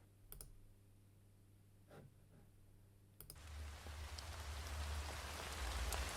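Rain sound effect in a video game, starting faint beneath quiet ambience and a few clicks, then swelling suddenly into loud, dense, hissing rainfall that keeps building, with no talking.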